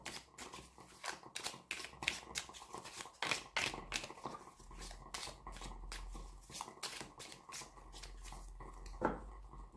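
Tarot cards being shuffled by hand, a run of quick papery riffles and snaps close up, repeating steadily with no talk.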